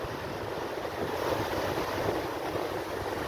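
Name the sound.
sea waves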